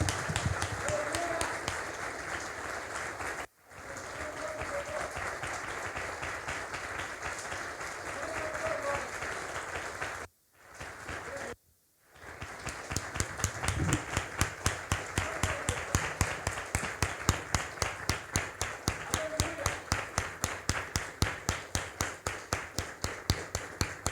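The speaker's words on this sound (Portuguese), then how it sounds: "Agradeço a oportunidade e as palmas glorificam ao Senhor." A church congregation applauds at length. The clapping is dense at first, breaks off briefly twice, then turns into steady rhythmic clapping in unison.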